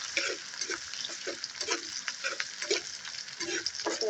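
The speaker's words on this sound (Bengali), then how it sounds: "আমি ভালো করে ভাজতে থাকবো।" Onion, garlic and vegetables frying in a pan, a steady close sizzle with rhythmic stirring strokes roughly every half second.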